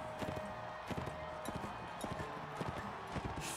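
Horse hooves clip-clop in Mount & Blade Warband, a medieval combat game, with fast repeated hoofbeats during a mounted battle, heard under busy in-game clatter and background noise.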